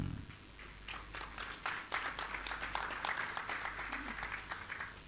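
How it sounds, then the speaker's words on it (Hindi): Faint, scattered audience applause at a Jain Panchkalyanak Mahotsav gathering in Jabalpur, thin separate claps building into a light patter, heard at a distance and subdued. "इतनी ठंडी ताली।"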